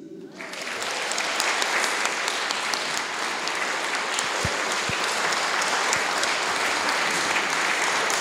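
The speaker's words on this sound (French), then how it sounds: "Est-ce qu'on les applaudit?" An audience applauds young performers at an evening community event with a choir: dense, sustained clapping that swells within the first second and holds steady and loud to the end.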